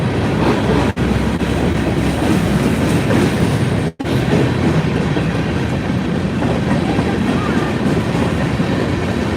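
Long train passing close by, a loud continuous rumble and rattle of wagons that runs on without a break, two brief dropouts aside.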